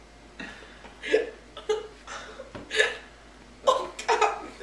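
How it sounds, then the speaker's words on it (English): A person with hiccups gives several sharp hiccups spaced irregularly over a few seconds, close and fairly loud, some followed by breathy, laugh-like sounds. "Now I have the hiccups."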